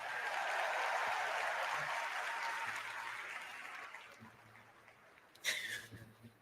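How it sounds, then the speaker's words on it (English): Audience applause at a Democratic National Convention event for a couple named Brian and Sandra, a steady wash of clapping that gradually thins and fades, ending with a brief sharp noise and scattered sounds. "Let's give Brian and Sandra another round of applause."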